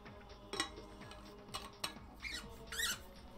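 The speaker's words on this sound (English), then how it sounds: "flask getting a little squeaky" A metal flask gives off a few faint, thin squeaks, short high-pitched chirps scattered among light clicks and taps, quiet and close.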